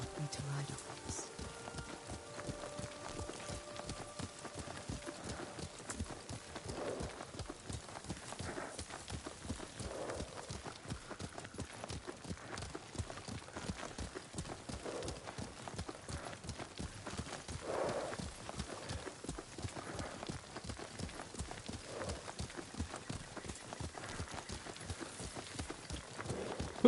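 Steady horse hooves clip-clop through a ride in Ghost of Tsushima, a continuous rhythmic trot at moderate distance with rain-like hiss throughout and a brief spoken exchange over it.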